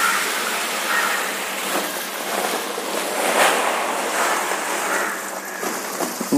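Water rushes and splashes steadily over aquarium gravel stones as fifteen kilos of them are washed half at a time, a continuous close wash with no speech.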